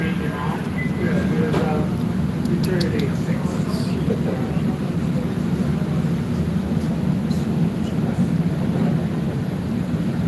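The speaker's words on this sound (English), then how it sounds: "This is a Blue Line train to UIC Boston." Steady low rumble of a Chicago Blue Line subway train running along the track, loud and continuous, with faint high squeals and rattles over the drone.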